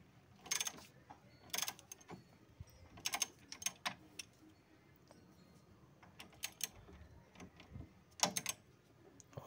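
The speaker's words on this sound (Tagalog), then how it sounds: "gagamitan naman natin ng open wrench para malabanan tong nut" Wrench working the stabilizer link nut on a Kia Sportage, giving a series of sharp metallic clicks and ratcheting clacks in irregular bursts, close and fairly quiet over a low background hum, with no talking.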